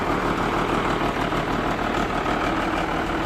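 A Kobelco SK200-3 excavator's diesel engine idles steadily nearby, a loud, even low rumble that holds without change and with no talk over it.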